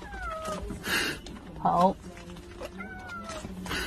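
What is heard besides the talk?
cat meowing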